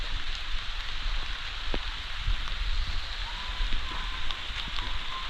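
Morning rain, the first of the season in rural Konkan, pours down in an even, dense hiss of drops striking surfaces, with occasional louder splats and no talking.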